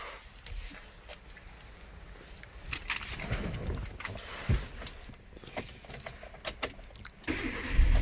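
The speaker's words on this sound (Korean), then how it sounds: "시동을 걸으면" A Kia Pride 1.4 hatchback, European-spec model, starting up in a parked car. There are a couple of keys jangling, then a low engine crank and catch near the end, all fairly close with no talk.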